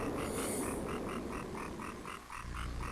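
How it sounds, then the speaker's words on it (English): Frogger croaks in the Frogger's Journey: The Forgotten Relic video game, a short croak repeating at a steady rhythm with each hop, running over continuous game background sound. "you might be hearing Frogger, like, croaks every freaking time he hops"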